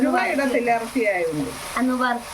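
Grated coconut, shallots, garlic and curry leaves fry together in a pan, giving a steady close sizzle that runs beneath a person talking the whole time.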